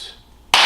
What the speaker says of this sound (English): And one last clap